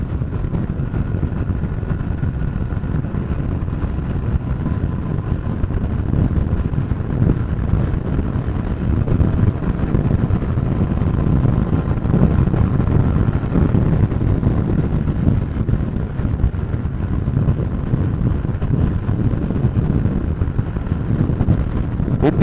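A Royal Enfield Continental GT 650 motorcycle cruising down a highway, its steady engine drone blended with constant wind rush across the microphone, unbroken and fairly loud throughout with no one talking.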